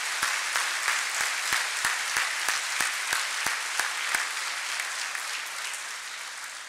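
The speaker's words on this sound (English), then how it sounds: "I think they deserve a round of applause as well." Sustained applause from a crowd at a 2018 LIT graduation conferring ceremony for Sports and Business at Moylish, a dense, even wash of clapping with a few sharp, regularly spaced claps standing out before it slowly thins.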